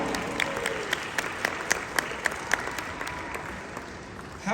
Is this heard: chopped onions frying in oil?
no